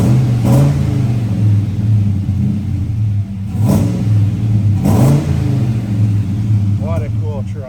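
A lifted 1981 Chevy K20 Stepside pickup engine idles with a low steady rumble, briefly revving a few times, heard close up from outside the vehicle.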